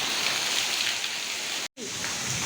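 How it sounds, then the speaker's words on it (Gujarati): Heavy rain pours down on a village in a dense, steady hiss that fills the whole stretch, broken once by a split-second dropout before the downpour carries on. "કેટલો વરસાદ આવે સાંભળો"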